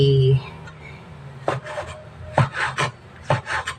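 Knife slicing jackfruit into small pieces, a few short rasping cuts with scraping and rubbing, close and fairly loud, after a brief voice at the start.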